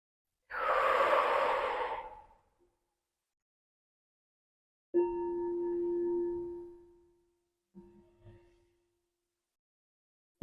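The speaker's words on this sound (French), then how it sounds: "en vous aidant de votre respiration." Slow, deep breathing during a guided full moon and eclipse sound-healing meditation: one long airy exhale, then a toned hum-like breath, then a few faint short breaths, close and quiet with silence between.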